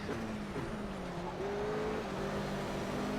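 Race car engines in the Project Cars racing game, a McLaren and nearby cars, droning steadily with rising and falling pitch as they accelerate and shift, loud and close, no talk.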